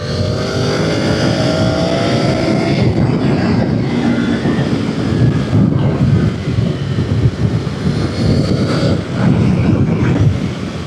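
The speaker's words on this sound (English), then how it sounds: "She's windy, Trev." Heavy wind roars and buffets continuously while riding a 2025 Triumph Tiger 900 Rally Pro motorcycle, blending with a low engine rumble at a loud, steady level.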